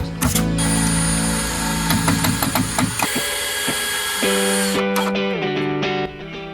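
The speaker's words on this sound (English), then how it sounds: "I ended up driving 3-inch screws into the walls to make everything a little bit more stable" A drill driving 3-inch screws into the wooden walls of a bike shed, loud close whirring with ratcheting clicks that shift in pitch as each screw bites, ending with a stop and a brief rattle.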